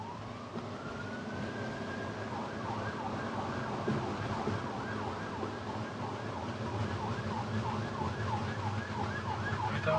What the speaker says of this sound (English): This clip shows why stopping can be a problem when there are emergency service vehicles around